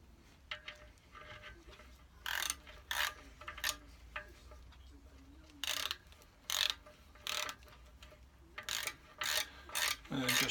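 A ratchet wrench tightens a bolt on a Porsche 911 SC Targa engine during a rebuild, in repeated short bursts of rapid clicking separated by brief pauses, close and moderately loud with faint handling noise between strokes.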